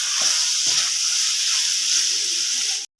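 Chopped bell peppers fry in a pan for chicken fried rice, giving a steady, bright hiss of sizzling oil that holds for about three seconds and then cuts off abruptly.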